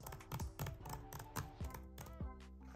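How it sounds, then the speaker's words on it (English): Typing on an M2 MacBook Air keyboard: a quick, irregular run of crisp, close key clicks and taps, with no one speaking. "And now as I type,"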